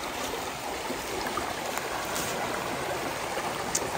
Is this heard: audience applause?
no